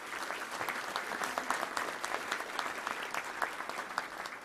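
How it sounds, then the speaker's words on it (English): An audience at a Little Rock Touchdown Club luncheon gives steady, dense applause for event sponsors, a continuous wash of clapping from many hands at moderate distance with no voices over it. "Let's give a round of applause to all our amazing sponsors."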